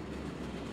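A train in Black Mesa gives a brief, low, steady rumble, faint and continuous throughout.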